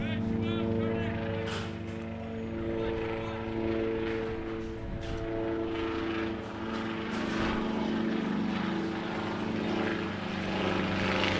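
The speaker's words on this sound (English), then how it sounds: "That's helicopter number" A helicopter flying over an outdoor youth baseball game, its steady droning rotor and engine hum holding a constant layered tone at moderate distance for the whole stretch, with faint talk underneath.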